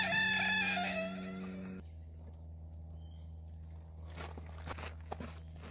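Young backyard chickens out near a garden in fall, a rooster-like crow rising loudly at the start, then quieter clucks and small rustling steps close by in an otherwise calm outdoor space.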